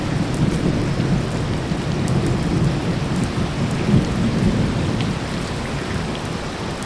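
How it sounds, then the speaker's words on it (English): Thunder rumbles through a steady, loud downpour of rain during a storm in Taiwan, with broad continuous rain noise and deeper low rolling peaks, no voices heard. "And there's that thunder."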